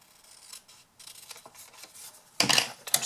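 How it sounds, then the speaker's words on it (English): Scissors cut paper for a box on a handmade card, with a series of short, close snips that are soft at first and then a louder burst of cutting near the end. "I'm going to use my scissors on this one"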